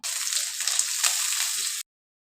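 Washed, thinly sliced cabbage going into a pan of fried potatoes gives a steady, close sizzle with faint stirring, lasting about two seconds and then cutting off to silence.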